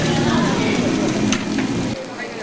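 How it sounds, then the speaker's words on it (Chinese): Beef slices sizzling in a hot pan, a steady close crackle of frying that drops away abruptly near the end. "牛肉煎得香喷喷"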